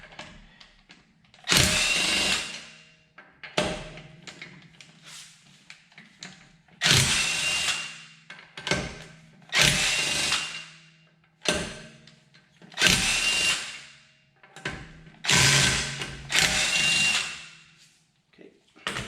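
Power tool spinning out wheel lug bolts on a 2006 BMW 330i with a 17mm socket: about seven loud, separate whirring bursts of a second or so each, with quiet pauses and clinks in between.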